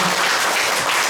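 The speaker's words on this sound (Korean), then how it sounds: "남궁희 선생님께 박수 부탁드립니다" A brief burst of dense audience applause fills a book talk celebrating a late novelist's posthumous collection, steady clapping from a crowd with no pause.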